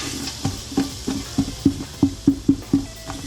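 Garlic and onions for green chili stew fry in a pot, a steady sizzle broken by about nine rhythmic scraping stirs of the spoon, close and fairly loud, with no talking.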